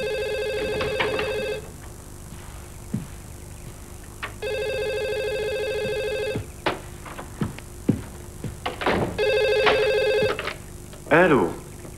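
An old-style telephone bell rings in three long bursts with pauses between, fairly loud and close, while a person speaks and moves about in the gaps and after the last ring.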